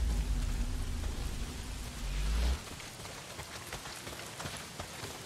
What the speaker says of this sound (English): not if it's pissing down rain